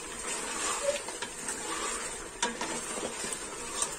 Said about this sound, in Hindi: दोनों चीज़ें डाल के अच्छे तरीके से भून लेते हैं।